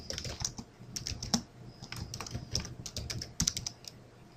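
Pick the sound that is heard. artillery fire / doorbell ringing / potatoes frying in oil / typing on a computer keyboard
typing on a computer keyboard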